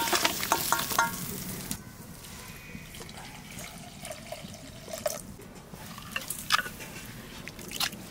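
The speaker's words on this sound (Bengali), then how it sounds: "মাছটাকে ওই 1-2 মিনিটের মতন ভেজে নিয়েছি" Giant freshwater prawns (golda chingri) fry in oil in a wok: close, continuous sizzling with clattering stirring and scraping in the first seconds, then a steadier bubbling hiss with occasional spatters.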